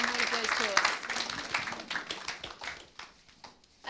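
Scattered applause at a mosque open day patters through a room, fading over a few seconds under talk.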